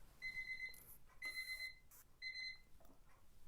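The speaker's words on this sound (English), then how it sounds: "There's our timer." A kitchen timer alarm goes off with three quick bursts of shrill, rapid beeping, each about half a second long and evenly spaced, followed by a faint click.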